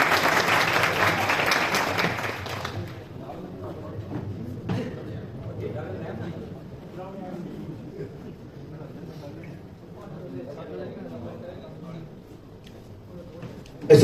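Applause from an audience at a school prize-giving ceremony, a few seconds of moderate clapping that fades into murmuring crowd noise and background talk.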